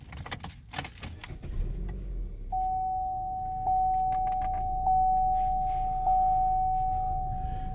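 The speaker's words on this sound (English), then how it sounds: "Start the car." Keys jangle in a Chevrolet Sonic's ignition, followed by a steady electronic chime tone that runs for several seconds, interrupted by brief clicks, close and alone without talk.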